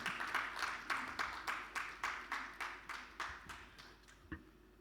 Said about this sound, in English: As he comes up, please, a round of applause for him.